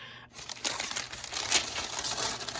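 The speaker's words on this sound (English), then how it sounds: "Now I'm going to put parchment paper on top" Dry, crackly crinkling of parchment paper laid over a puzzle for sublimation pressing, a few seconds of close, busy rustling with a sharper crackle near the middle.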